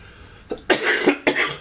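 Several sharp, close coughs in quick succession aboard a cruise ship at sea, loud and clear with short pauses between them.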